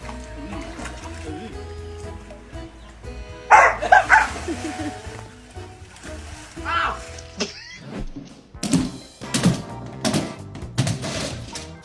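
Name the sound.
pit bull dog barking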